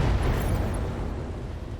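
A single airstrike explosion in the mech combat game RogueTech, a loud, broad rumbling blast whose low roar fills the clip and slowly fades without pause.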